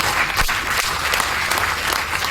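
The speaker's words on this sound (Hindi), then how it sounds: "ताली मत बजाओ" An audience bursts into loud, sustained applause at a motivational talk, a dense crackle of many hands clapping close by, with a few sharper individual claps standing out.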